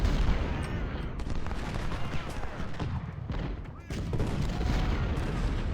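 Dense artillery booms and crackling musket volleys from a Civil War battle in the video game Ultimate General: Civil War, rolling continuously and loud with overlapping shots and brief lulls.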